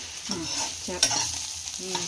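Spices for a fish curry sizzle in a hot pan while a spoon scrapes and stirs in short strokes, close by, with a sharp clink midway.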